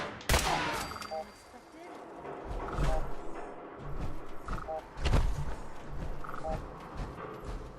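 A gunfire volley in an animated X-Men '97 scene: loud, repeated sharp bursts ring out over a dense, continuous din, with a heavy blast standing out midway.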